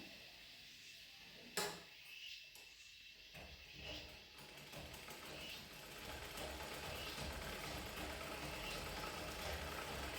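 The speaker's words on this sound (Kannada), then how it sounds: "ಒಂದು ಮೂರು ನಾಲ್ಕು ಇಂಚಷ್ಟು ಕಟ್ ಮಾಡಿ ಅದನ್ನು ಸ್ಟಿಚ್ ಮಾಡ್ಕೊಳ್ತಾ ಇದ್ದೀನಿ" A home sewing machine stitches a shortened trouser hem, with a few soft clicks and knocks and then a quiet, steady mechanical whir. No one speaks.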